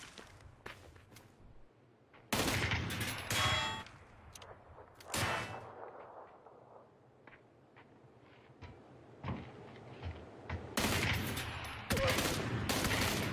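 Video game gunfire cracks out in sharp, loud bursts and single shots, spaced irregularly with quieter gaps and faint clicks between volleys.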